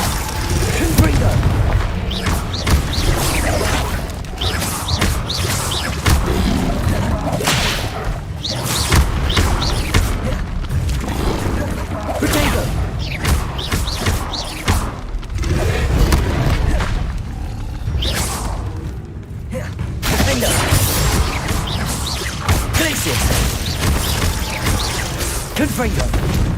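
Repeated Confringo fire spell explosions crash and boom through a dense, loud Hogwarts Legacy battle, with whooshes and impacts overlapping continuously and voices heard throughout.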